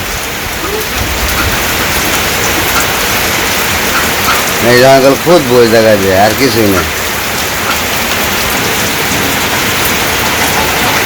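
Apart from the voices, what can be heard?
heavy rain in a Bangladeshi village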